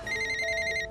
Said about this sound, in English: Elizabeth's phone rings.